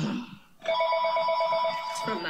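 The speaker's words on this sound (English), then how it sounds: "And the phone is ringing." A telephone rings with a steady trilling bell, loud and close, after a voice briefly speaks just before it starts.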